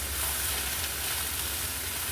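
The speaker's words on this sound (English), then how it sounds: "So now we're just going to be browning up these sausages." Chicken sausages browning in a pan with peppers and onion give a continuous, even sizzle and crackle, steady and close throughout with a low background hum.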